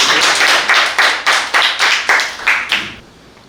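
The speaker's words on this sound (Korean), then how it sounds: "그럼 박수 한번 쳐주시고요" Several sharp, evenly spaced hand claps ring out in a short burst at a talk, loud and close, before fading into quiet.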